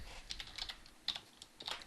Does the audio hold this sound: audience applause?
no